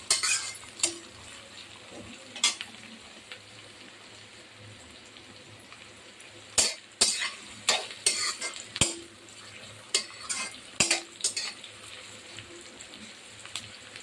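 Onions and green chillies frying with cumin in a pan, a soft steady sizzle under repeated sharp clicks and scrapes of a spoon stirring against the pan, quiet and close.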